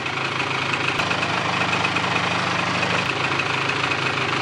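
A Polaris 400L ATV engine runs at a steady idle, a continuous rough close-up drone with no change in pitch.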